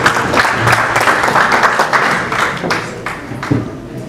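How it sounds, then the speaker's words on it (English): An audience at an ophthalmology workshop applauds a speaker, a steady, full wash of many hands clapping at close range for several seconds with little talk. "Please give her an applause."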